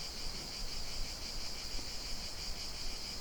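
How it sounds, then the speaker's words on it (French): Cicadas sing outdoors in a continuous high, buzzing drone that holds steady throughout, with no voices or other distinct sounds. "Là, il y a les cigales qui sont là, qui nous accompagnent."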